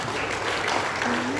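Applause in a regional parliament plenary session, a steady wash of many hands clapping throughout, with a voice faintly audible beneath it.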